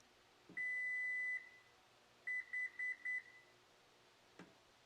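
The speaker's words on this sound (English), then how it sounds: "I'm gonna wait until after the double beep" An electronic beep from a 2023 Toyota Prius power hatch sounds once long, then four short beeps follow in quick succession, followed by a faint click, all fairly quiet.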